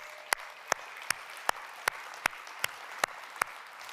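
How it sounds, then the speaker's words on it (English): Nine sharp, evenly spaced hand claps in a slow, steady rhythm, fairly close, with no crowd noise around them. "Big round of applause to our sponsors."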